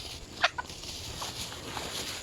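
Broodcock roosters cluck and squawk briefly over a low steady background hum, a couple of short calls close by then quieter murmuring.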